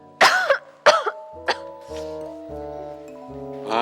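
A woman with a cough gives two harsh, loud coughs close by, followed by a smaller cough and a throat clear, with quiet music underneath.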